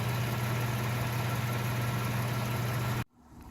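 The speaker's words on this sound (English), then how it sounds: "It sounds okay when you're in the higher revs, but just idling, it just sounds like a regular other car." A 2014 Lexus IS250 F Sport with its stock exhaust idles in a steady, even drone that stops abruptly near the end, leaving quiet background.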